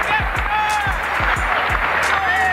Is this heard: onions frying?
no